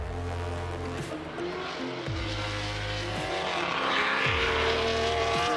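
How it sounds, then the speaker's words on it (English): A 2004 BMW E46 race car with an S85 V10 engine, full race sequential gearbox and Motec, screams loudly through repeated upshifts, each rising engine pitch cut by a quick gear change, with faint tire noise and no talk. "this is my 2004 BMW E46 with the S85 V10"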